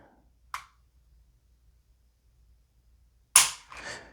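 A striker-fired Walther PDP Compact pistol with a 5.5-pound trigger is dry fired: a crisp click, a long silence, then a louder sharp snap followed by a brief mechanical rattle, all close and with no talking.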